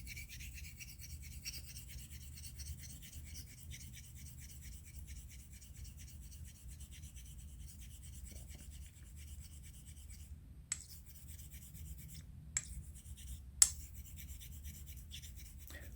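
Straight razor, a Thiers Issard Evide Sonnant Extra, stroked across a Belgian coticule honing stone; a steady soft rasp that runs continuously and close, with a few faint clicks near the end.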